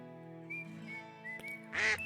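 A duck gives a short nasal quack near the end, loud and close, following a stretch of sustained tonal music-like sound.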